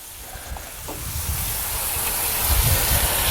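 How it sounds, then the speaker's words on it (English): Steady, loud sizzling hiss of chicken and other meat cooking on a hot Gator Pit grill, rising slightly and continuing without pause, with no voices. "You can hear some sizzling going on."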